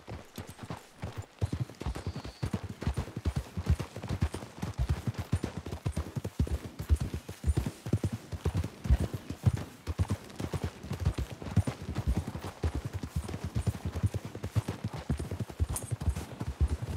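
Horses gallop in the Red Dead Redemption video game, a fast, rhythmic clip-clop of hooves that runs steadily and close throughout.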